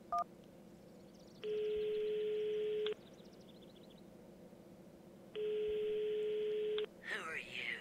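A telephone busy signal sounds in the video game Runaway 3 after a call is hung up. Two long, steady electronic tones are separated by a pause, with a short beep at the start and faint talk underneath.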